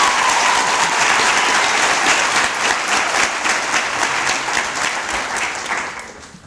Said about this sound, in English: A substantive round of applause, ladies and gentlemen, please